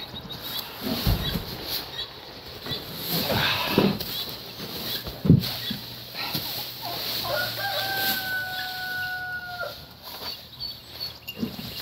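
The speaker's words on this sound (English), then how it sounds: "I hear the guinea hen." A guinea hen repeats harsh, rattling calls over steady outdoor farmyard noise on an animal farm, with a long crowing cry rising in the middle distance.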